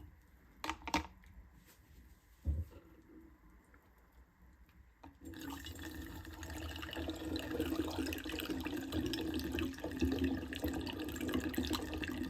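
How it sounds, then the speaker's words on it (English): Homemade yerba mate liqueur with mint is poured through a funnel and strainer into bottles, a steady close liquid pour and trickle following a few brief knocks at the start. "I will pour liquid through funnel and strainer to bottles"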